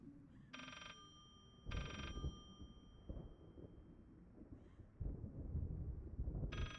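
A telephone rings in the horror game Layers of Fear, three short bell bursts spaced across a quiet scene with low rumbling footsteps and ambient noise beneath.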